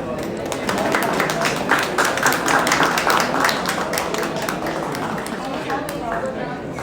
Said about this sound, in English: Some round of applause,